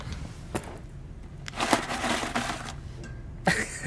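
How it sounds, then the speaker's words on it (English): A MacBook's empty-trash sound effect, a dry paper-crumpling rustle with a few sharp crackles at the start and a short burst near the end, close and fairly quiet with no talking. "When you empty the trash, doesn't it sound like this?"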